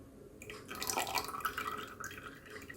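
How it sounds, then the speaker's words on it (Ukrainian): Strawberry juice poured into a milk dessert mixture while stirring: a short, soft liquid trickle with light dripping and splashing, faint and close, no voices. "Перемішуємо і додаємо сік."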